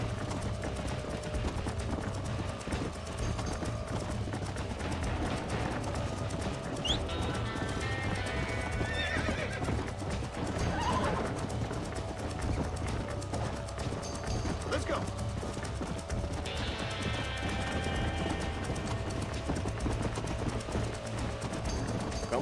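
A stallion in the Red Dead Redemption video game gallops with steady clip-clop hoofbeats and gives a couple of whinnies, all under game music and someone talking.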